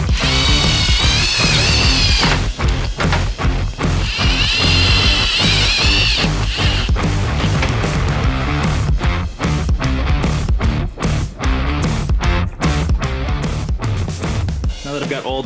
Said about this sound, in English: I've got all the holes drilled out,